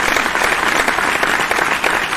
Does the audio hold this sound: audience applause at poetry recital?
yes